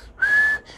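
A single clear, steady whistle of under half a second, made by a person imitating the wheezing breath of asthma, sounds close and alone.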